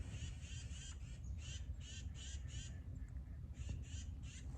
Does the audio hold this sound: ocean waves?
no